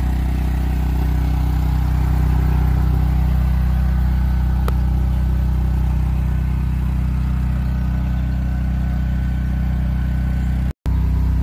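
A portable generator runs inside a homemade sound-dampening box, giving a steady, even mid-pitched engine drone with no change in speed, briefly cut off near the end.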